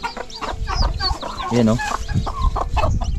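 A native hen clucks nearby in short, throaty bursts while a person talks briefly over it.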